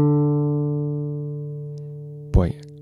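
A single open fourth string tuned to D is plucked once and rings as a clear, sustained note that slowly fades. A brief spoken voice cuts in near the end.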